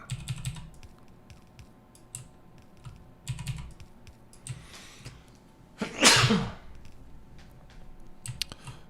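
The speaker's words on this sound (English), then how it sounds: "Pardon me, big sneeze there." A single loud, close sneeze bursts out from a gamer during a Factorio modded session, standing out sharply against quiet keyboard typing and clicking that continue faintly before and after.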